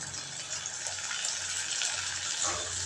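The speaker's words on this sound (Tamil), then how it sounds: "தண்ணி நம்ம இந்த ஜாரை மட்டும் லைட்டாக அந்த கழுவி அதை ஊற்றின தண்ணி மட்டுமே நமக்கு போதும்" Water poured out of a grinder jar after a light rinse, a continuous splashing gush heard close and fairly loud, alone without talk.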